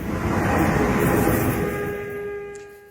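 Jakarta MRT subway train running, a loud close rumble of wheels on rail with a steady tonal whine that fades as the train moves away.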